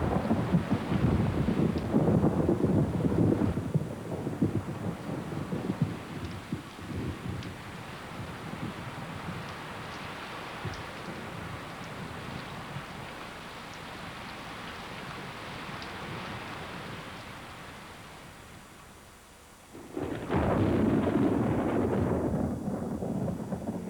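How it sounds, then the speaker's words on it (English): A short, violent rainstorm sweeps across the Namib Desert: a dense roar of rain and wind gusts, with heavier bursts at the start and near the end and a softer steady wash in between. "when rain finally comes, the storm is short-lived and"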